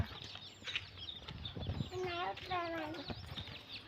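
A hen clucks and gives a few rising squawks close by, while a voice and other quiet speech come and go.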